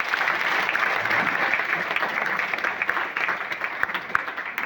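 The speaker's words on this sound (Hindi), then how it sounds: "सो उन सब के लिए एक स्पेशल ताली होना चाहिए।" An audience at a DXN training program applauds the Raksha Bandhan event organizers, a dense, sustained burst of clapping from a roomful of people, loud and steady without talk.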